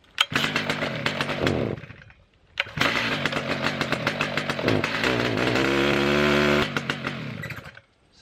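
A Husqvarna 3120xp chainsaw starts up and runs loud and close, revving hard with a brief drop to idle partway, then sustains a steady high whine before cutting off.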